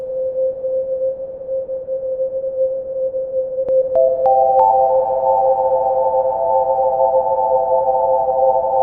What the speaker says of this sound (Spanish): si lo comienzo a subir lo suficiente, esto se convierte en una especie de reverberación muy gigante